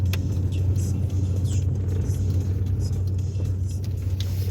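A car on a snowy mountain pass road gives a steady low engine rumble with road noise, close and continuous, with no voices.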